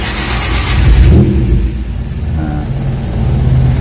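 A 1995 Daihatsu Feroza SE idles with a deep, bassy exhaust rumble that swells briefly around the first second, then settles into a steady loud drone.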